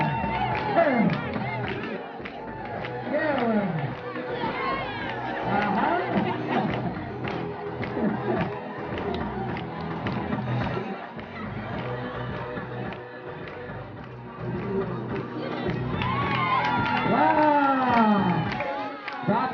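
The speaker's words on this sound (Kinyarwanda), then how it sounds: "Amashyi cyane." A school crowd at Imani Parents' School cheers, whoops and shouts continuously, children's voices rising in bursts over a dense, loud wash of chatter and applause.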